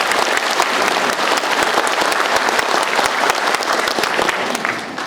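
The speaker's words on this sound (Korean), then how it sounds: "여러분 박수 한번 부탁드리겠습니다" An audience at a lecture in Sokcho applauds, with dense, sustained clapping from many hands that fills the room steadily and tapers slightly at the end.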